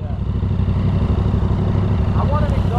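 A 2018 Yamaha MT-09 motorcycle runs close and loud, its engine holding a steady, throbbing rumble with a slightly rough, pulsing texture throughout.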